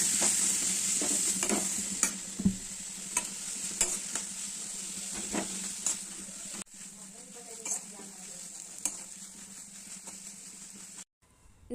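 Whole spices such as pepper, fennel, cinnamon, cloves and cardamom fry in a pan with mint and ginger for masala puri, a steady close sizzle broken by stirring clicks and scrapes, with a quieter stretch near the end.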